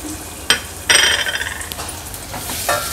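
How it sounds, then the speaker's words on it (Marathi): Finely chopped onion hits hot oil tempering for matki misal with a bright sizzle, spiked by a few metal clanks of a spoon against the pan. "आता हा कांदा जो बारीक चिरून घेतलाय तो फोडणीला घालूया।"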